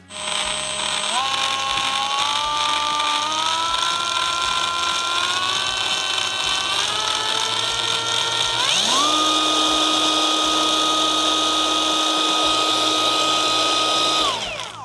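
A Procraft PMM20 cordless brushless mixer runs continuously with a whining motor hum that steps up in pitch as the speed is raised, then jumps sharply higher and holds a loud steady tone before winding down.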